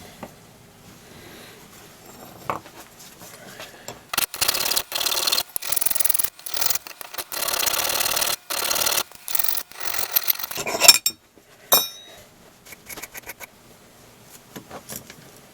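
Bolts clamped in a vise are ground down, giving rough rasping bursts that start around four seconds in and run in steady broken strokes, then sputter into short scrapes near the end, with no talk.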